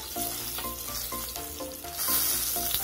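Chilies sauté in hot oil for tomato chutney, sizzling steadily with a few stirring scrapes, close and moderately loud.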